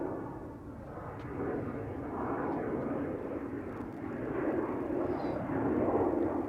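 Jet airliner engines rumble at Amsterdam Schiphol Airport, a broad, steady roar that swells gradually louder over several seconds, heard from a moderate distance with no talk.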